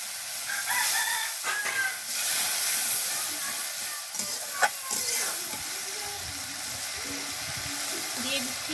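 Turmeric and chilli spice paste for a light fish curry sizzles steadily in a pan as water is poured in, a continuous hiss with a few small clinks, recorded close and alone.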